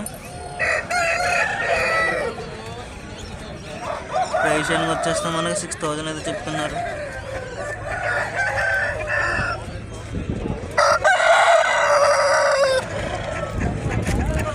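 A rooster crows loudly and repeatedly nearby, with other fowl clucking around it while someone talks over the noisy, busy background of a poultry market.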